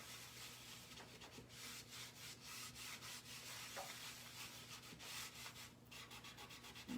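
Wax rubbed by hand across a painted wooden board, a steady close scuffing and brushing texture in continuous short strokes, with a faint background hum underneath.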